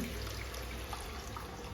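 Water used to grind masala is poured into a pot of mutton curry, giving a steady, faint, continuous rush of liquid with no talking over it.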